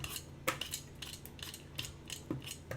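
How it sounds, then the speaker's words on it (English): A knife scrapes and clicks in several short, separate strokes while peeling a pickling cucumber, close and fairly quiet with a faint background hum and no talk. "So I'm going to take my cucumber and I'm actually going to peel it."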